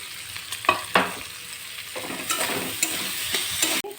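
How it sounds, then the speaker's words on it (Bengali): Chopped ginger and garlic frying in a pan for a chicken filling, with steady close sizzling and spoon stirring scrapes, a few sharper clanks in the first second and a sudden cut near the end. "এখানে দিয়ে দিচ্ছি আদা রসুন কুচি"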